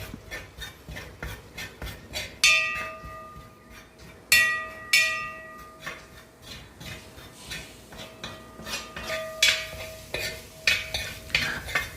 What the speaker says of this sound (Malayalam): മുളക് പൊടി, ചിക്കൻ മസാല, കുറച്ച് കുരുമുളക് പൊടി എല്ലാം ഇട്ടിട്ട് അതിന് പച്ചമണം മാറണ വരെ നമുക്കൊന്ന് ചൂടാക്കിയെടുക്കാം